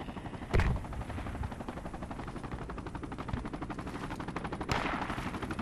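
Rapid automatic gunfire from the military shooter Project Reality in a desert battle, a continuous fast rattle with a couple of sharper, louder shots standing out near the start and end.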